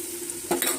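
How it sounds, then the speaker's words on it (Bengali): Chopped onion frying in oil with turmeric and salt in a wok: a soft sizzle broken by a brief, close spatula scrape and stir near the end. "পেঁয়াজটা ভাজা ভাজা হয়ে গিয়েছিল। আমি এখানে হলুদ লবণ দিয়ে নিয়েছি।"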